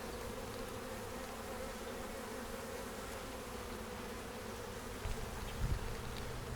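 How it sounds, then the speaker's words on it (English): Honeybees buzz steadily around an open hive frame heavy with honey and brood, a dense continuous drone at close range with no voices, rising briefly near the end. "there'd be probably 3 times as many bees in here"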